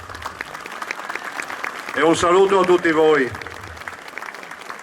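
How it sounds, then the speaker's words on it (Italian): Audience applause in a hall, a steady bed of clapping running beneath someone speaking briefly in Italian through the middle, then continuing on its own. "E un applauso a Chiara"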